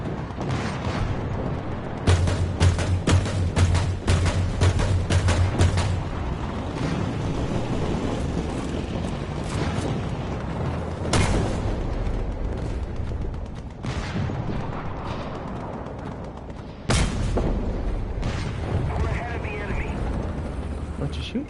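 Repeated tank cannon and gunfire in the video game War Thunder, a low-tier British battle, with sharp loud blasts spread over a dense rumbling backdrop of engine and battle noise, and one heavy shot standing out later; someone talks over it.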